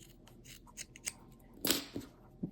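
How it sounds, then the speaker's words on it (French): Scissors snipping through yarn threads for tassels on a plush-toy hammock, a few quiet close crisp cuts with small handling rustles between them, no talking. "Je prends une sur l'autre et je coupe."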